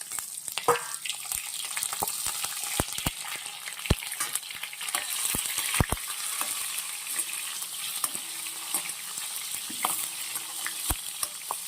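Chopped onions sauté in a pan with cumin and asafoetida, sizzling in a steady broad hiss with frequent sharp clicks and stirring scrapes throughout, close and continuous with no talking.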